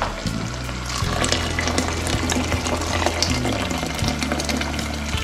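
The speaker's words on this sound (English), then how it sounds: "That was boiling water." Boiling water pours and splashes into a cooking pot, a sustained rushing gurgle with a low rumbling hum underneath.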